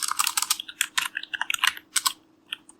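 Rapid, crisp keystrokes on a computer keyboard as JavaScript code is typed, a quick run of clicks thinning out toward the end, close and clear with a faint steady hum behind.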